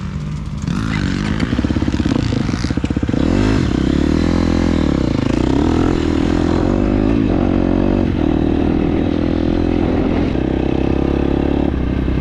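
A Yamaha YZ250F dirt bike engine revs loud and close, rising and falling in pitch as it accelerates, with rattly mechanical clatter throughout.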